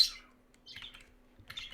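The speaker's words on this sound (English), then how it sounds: "And they are budgies, they're parakeets." Pet budgies (parakeets) chirp indoors, a few short high tweets and squawky bursts separated by quiet gaps.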